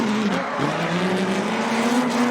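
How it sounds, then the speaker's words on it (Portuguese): A drift car revs hard at steady high pitch as it tries to start a drift, with a brief dip and engine pitch shifting, loud and continuous with faint tire noise. "Daí eu tento começar o drift de novo"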